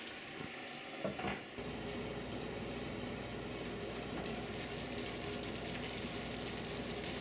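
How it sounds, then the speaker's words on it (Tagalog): A covered pot of coconut milk for ginataang langka with pork begins to boil, giving a steady soft bubbling sizzle that runs continuously after a few quiet knocks at the start. "So tatakpan ko na to ngayon at nag-umpisa ng kumulo."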